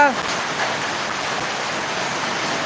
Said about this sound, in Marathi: या ठिकाणी बघा पाणीच पाणी वाहत आहे